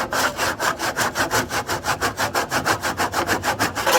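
A hand saw, a coping and tenon combination blade, cuts a wooden joint with fast, even back-and-forth strokes, about five per second, close and steady with no voices.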